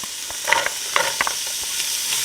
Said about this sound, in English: And give this a stir.